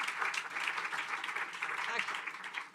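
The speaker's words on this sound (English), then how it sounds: "Round of applause for all these folks." Applause from a conference audience for panelists at a Food Day event at the UN General Assembly, a faint, even patter of many hands clapping from a distance for the whole stretch.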